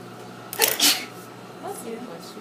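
A single sharp sneeze bursts out close by, brief and loud, in a quiet room with a faint hum, followed by softer speech.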